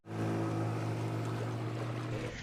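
A steady motorboat engine drones close by over rushing sea water and wind, holding constant before easing slightly at the end.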